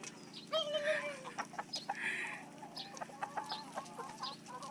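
Pet chickens cluck and murmur close by in a busy, uneven stream of short calls over a steady low background hum, with no talk.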